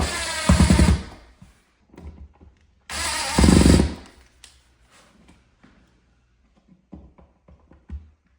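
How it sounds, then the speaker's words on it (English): A power drill on its lowest torque setting whirs in two short, loud bursts a few seconds apart while screws are driven during guest room finishing work. Light clicks and handling noises fill the gaps between the bursts. "We're going to grab our drill, set it on our lowest torque setting."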